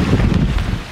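Strong wind buffets the microphone on a hike in Torres del Paine, a loud, steady low rumble that fills the whole moment with no voices.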